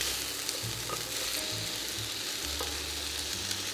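Broccoli sautés with garlic in olive oil in a quiet, continuous sizzle and crackle, with occasional light scrapes of stirring.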